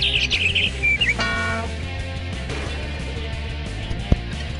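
Cartoonish bird chirps from the Jackbox Party video game, a quick cluster of high tweets at the start followed by a brief call, over a steady game music bed.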